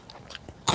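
A single close, crisp crunch as raw vegetables from a Sundanese lalapan meal are bitten into, preceded by a few soft mouth noises.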